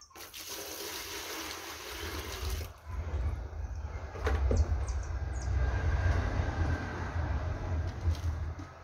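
Water is poured out for soap making, giving a steady splashing rush that swells midway and continues to the end, alone and close by.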